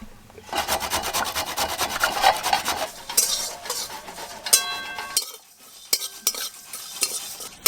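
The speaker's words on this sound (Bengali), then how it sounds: "তেজপাতা, গোটা গরম মশলা আর গোলমরিচ, একসঙ্গে ভালো করে ভেজে নেব" Whole spices (bay leaves, whole garam masala and black peppercorns) rustle and scrape in a hot pan as they are stirred, with a steady scratchy rasp and a few brief clinks near the end.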